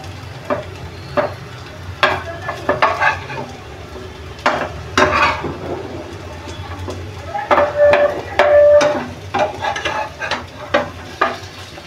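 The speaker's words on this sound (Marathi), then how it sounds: "आता सर्व वड्या आपण पलटून घेऊ." Non-veg vadas sizzle steadily in hot oil after being flipped, with repeated sharp spatula clanks and scrapes against the pan throughout.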